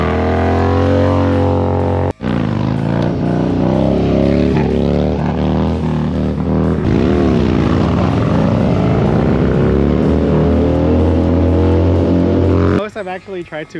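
A motorcycle engine revs hard during licence riding practice, its pitch climbing and falling through repeated throttle blips with a crisp, loud response, broken by one sharp cut-off early on.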